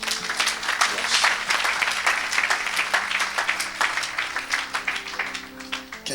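A church congregation applauding in rhythmic unison during a service, steady clapping throughout with musical tones underneath.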